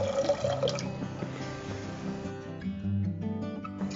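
Water pouring into a pot of soaked rice before cooking, a continuous close splashing and filling sound that runs steadily with no talk.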